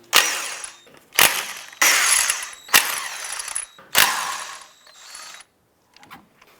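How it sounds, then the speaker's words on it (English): A ratchet wrench fitted with a 19mm socket loosens lug nuts on a 2004-2009 Subaru Outback wheel, giving five loud, close bursts of fast clicking separated by short pauses, and then a quieter tail. "19mm socket, we'll go ahead and remove the lug nuts."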